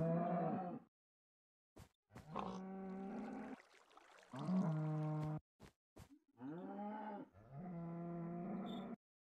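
Cows on a farm in a video game moo in a series of drawn-out calls, about six distinct lowing moos with short gaps between them, clear and fairly close with no talk.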